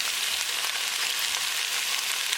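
Chicken in tomato sauce cooking over high heat in a pan, giving a dense, steady close-up sizzle that holds evenly for a couple of seconds with no voices.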